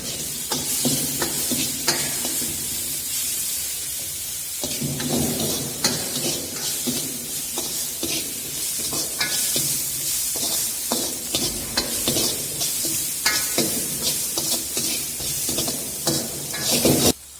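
Chopped green beans, capsicum and carrots stir-frying in a pan produce a steady loud sizzle with repeated scraping and tossing strokes of a spatula, close and continuous throughout.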